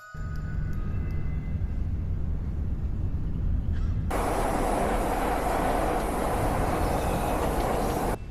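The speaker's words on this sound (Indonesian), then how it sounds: "Kereta itu pun berhenti dan Julia bergegas keluar." A train rumbles steadily throughout as it comes to a stop, with a loud, broad hiss swelling in about halfway through, like brakes or air release as it halts.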